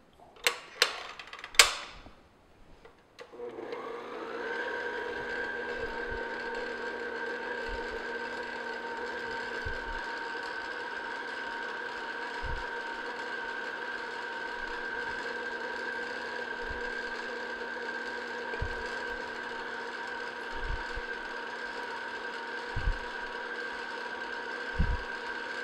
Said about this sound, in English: I'm just going to have the mixer on low speed and add the eggs 1 at a time